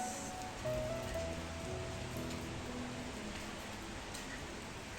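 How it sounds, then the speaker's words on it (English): Morning rain outdoors, falling as a steady soft hiss with scattered drips and a low background rumble throughout. "It's raining this morning"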